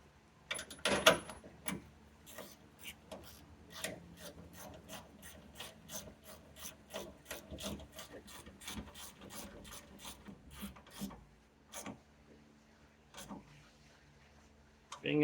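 Ratchet clicking in short rhythmic strokes while tightening bolts that secure a radiator on a Chevy/GM 5.3L V8, close and clear with brief pauses between bursts.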